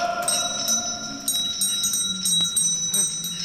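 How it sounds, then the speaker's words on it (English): Bell ringing in a house in A Christmas Carol, a series of bright metallic strikes with sustained ringing tones over a faint background, moderately loud and somewhat near, without speech. "It's not a bell like that in my house."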